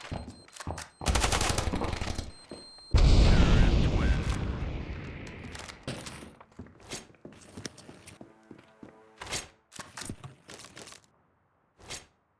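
A loud game explosion booms and rumbles away, surrounded by bursts of gunfire and sharp clicks, with quieter footsteps and scattered noises afterward.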